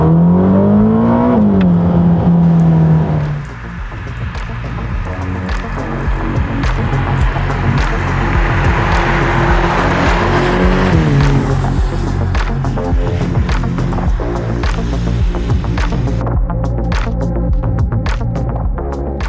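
A Ferrari Roma is driven at speed, its engine revving up with a clear rise and drop in pitch early on, then settling into a steady throbbing drone with road noise, loud and close throughout.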